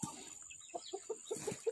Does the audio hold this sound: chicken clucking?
yes